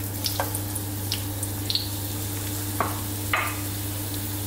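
Onion fries in sunflower oil with a steady, fairly quiet sizzle beneath a constant low hum, broken by a few soft scrapes and clicks of stirring.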